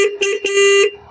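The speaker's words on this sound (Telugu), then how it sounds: "హార్న్ కొద్దిగా తక్కువగా ఉంది బ్యాటరీ డౌన్ వల్ల" A Triumph Speed 400 motorcycle horn sounding weak from a low battery gives a few quick close toots, then one longer steady honk before cutting off.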